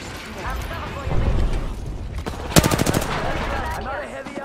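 Rapid automatic gunfire in the video game Apex Legends, a short burst of close, evenly spaced shots, mixed with game effects under a talking voice.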